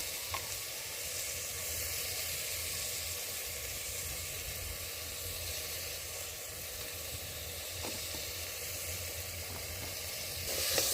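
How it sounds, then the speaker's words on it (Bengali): Spices with turmeric and salt fry in a pan over a village cooking fire, giving a soft, even sizzle that holds steady throughout, with a couple of faint stirring scrapes and a slight lift at the end. "তো এখন সব মশলা দিয়ে ভালোভাবে কষিয়ে নিবে হলুদ গুঁড়া দিয়ে নিল লবণ"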